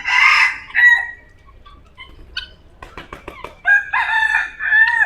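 Red junglefowl in a safari park enclosure, crowing and calling in several bursts: a loud crow to open, a shorter call, a series of quick clucking notes, then another strong drawn-out crow, close and clear with no voices.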